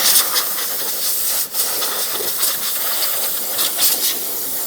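Forced compressed air blasts cleaner out of the hard-to-reach corners of an engine bay, a steady loud hiss running nearly continuously with a brief dip and a few sharper bursts, no talking.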